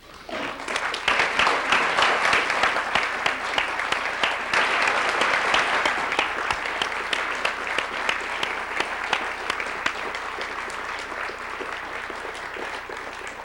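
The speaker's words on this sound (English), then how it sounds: "if we can applaud them to honor their work" Sustained audience applause at an awards ceremony as honorees stand, dense steady clapping from a large crowd that continues for the whole stretch, easing slightly near the end.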